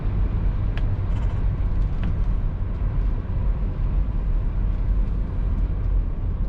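A 1972 Oldsmobile Cutlass Supreme cruising on the road, its steady engine and tyre roar holding a constant, even level throughout with no pauses.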